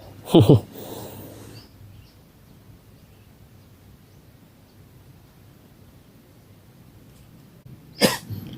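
A short burst of coughing near the start, then quiet room noise, and one more brief sharp cough or throat sound near the end.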